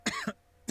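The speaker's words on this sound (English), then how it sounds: "he devolves into a fit of shoulder-rattling coughs" A man coughs, a quick pair of harsh, close coughs followed by a third after a short pause, sounding wet and strained.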